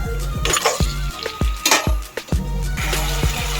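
Mutton going into a pan of softened onions and tomatoes for a Godavari-style mutton cucumber curry: close-up sizzling frying with repeated sharp clinks of a spoon stirring against the pan.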